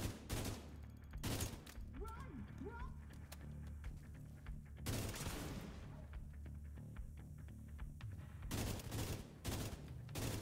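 Burst-fire rifle shots in The Division 2, several sharp clustered volleys spaced a few seconds apart, loud and close over continuous background combat noise and a low engine-like drone.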